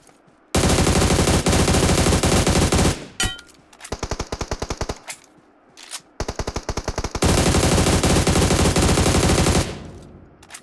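Loud, close automatic gunfire from a gun in the mobile shooter BGMI, long sustained bursts with a couple of short pauses and one clipped, stuttering volley in the middle.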